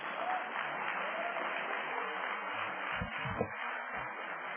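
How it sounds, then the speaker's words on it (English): A crowd at an awards ceremony applauds steadily, a dense patter of clapping heard faintly as if through a thin, muffled recording, with a few louder thumps near the end. "give him a round of applause"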